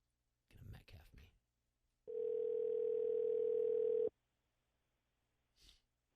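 A ringback tone on an outgoing phone call, one steady two-second buzz between brief breathing and rustling sounds, clear and fairly loud on the line.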